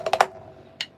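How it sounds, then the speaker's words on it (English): Inverted paradiddles played on a drum kit: a quick cluster of three crisp strokes followed by a lone stroke after a short pause, close and moderately loud with no talking. "it's inverted paradiddles"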